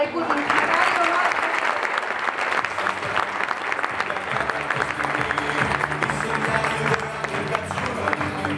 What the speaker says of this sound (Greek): Ένα θερμό χειροκρότημα για την ομάδα του Πασεραϊκού, την μεγάλη ομάδα.